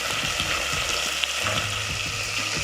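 Mutton sizzling and frying in a hot pan, a steady dense crackle with occasional stirring scrapes, close and continuous.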